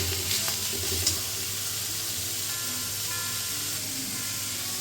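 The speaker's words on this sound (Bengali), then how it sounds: "পেঁয়াজটা একটু ভাজা হোক।" Onions and chillies frying in a pan for black pepper chicken, a steady close sizzle and hiss with a brief stirring clatter near the start, continuing evenly.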